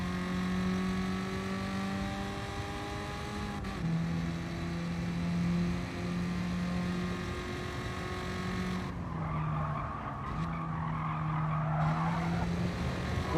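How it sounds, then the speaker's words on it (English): A race car drifting in the video game GT Sport, engine note holding steady pitch then dipping and climbing again as tires squeal through a long slide near the end, continuous and loud. "What is going on with this driftiness on this car?"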